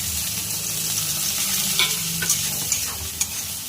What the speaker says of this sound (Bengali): পেঁয়াজগুলোকে ভেজে নেব লাল লাল করে